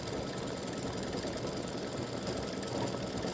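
An embroidery machine stitching a freestanding lace soccer earring set, giving off a continuous, dense mechanical whir with rapid needle chatter that stays steady and close throughout, with no talk.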